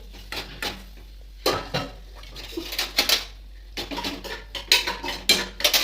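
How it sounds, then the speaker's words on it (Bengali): Pots and utensils clatter and clink while carrot halwa is heated, with irregular close metallic knocks and scrapes coming in clusters through the clip. "গরম গরম হোক এটা আটকে রাখো গরম করছি গাজরের হালুয়াটা"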